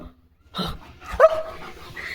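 Leo, a pet dog barking at a net, gives a couple of sharp close barks with a brief whiny yip between them in an otherwise quiet room.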